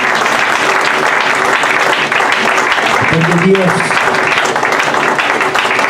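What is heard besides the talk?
church congregation clapping as an offering to God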